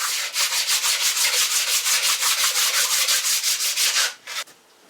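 Light hand sanding on the metal deck surface of a used small-block Chevy cylinder head, a rhythmic back-and-forth rasping of about two strokes per second, close and steady, stopping abruptly near the end.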